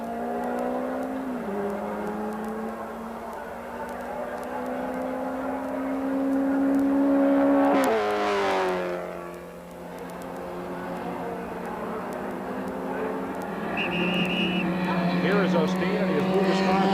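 A Porsche race car in a 1980 E Production national championship race revs hard on track, its engine note climbing through gears, surging past close by, then fading before another car accelerates in, with commentary talk over it.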